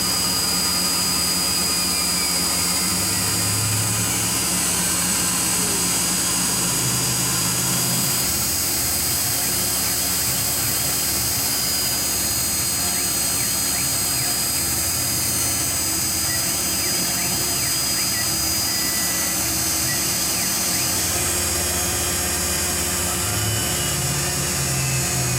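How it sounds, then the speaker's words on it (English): A Tormach PCNC1100 CNC mill takes a finishing pass on the wall and floor of a Volvo pulley with a half-inch end mill, producing a loud, steady high-pitched whine with a constant machine drone underneath, no talking. "right now I'm just going back in with that ½ inch end mill and finishing the wall and the floor."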